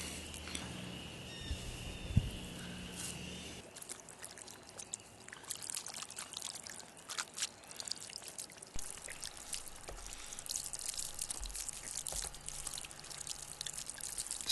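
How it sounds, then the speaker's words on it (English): A garden hose sprays water over freshly cleaned trout. After a few quiet seconds it becomes a steady, close hiss and splash, with drips and trickles running on throughout. "So now I'm just cleaning the fish with the hose"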